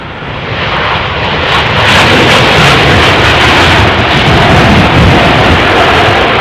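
A large jet airliner roars loudly and close by at London Heathrow during Storm Noa, a continuous broadband engine rumble that builds in the first two seconds and then holds steady, with no talking.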